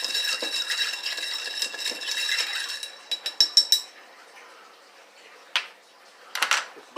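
Stir stick clinking inside a glass while mixing a hot sauce screwdriver drink, a run of light stirring rattles followed by a few sharp separate clinks, close and fairly quiet.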